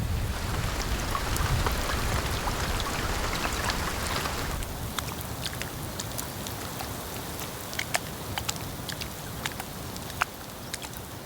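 Steady heavy rain pours down at Barafu camp on Kilimanjaro, a dense hiss with scattered sharp drops pattering nearby, easing slightly partway through.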